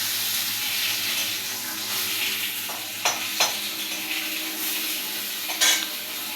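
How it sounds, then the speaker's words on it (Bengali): Bitter gourd frying in ghee gives a steady bright sizzle and hiss, with a few soft utensil clicks and scrapes near the middle and the end, and no speech. "এই যে ঘি দিয়ে ভেজে নিয়েছি"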